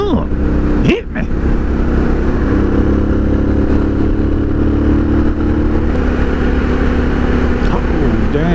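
Suzuki DR650 motorcycle fitted with an FMF exhaust riding steadily, its engine drone loud and close throughout with a brief dip around the one-second mark, wind rush mixed in.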